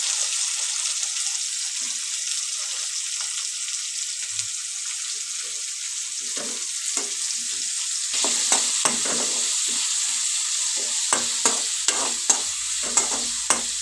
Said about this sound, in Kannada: ಇವಾಗ ಹೀರೆಕಾಯಿನೂ ಇದರಲ್ಲೇ ಹಾಕಿ ಸ್ವಲ್ಪ ಎಣ್ಣೆಲಿ ಫ್ರೈ ಮಾಡ್ತೀನಿ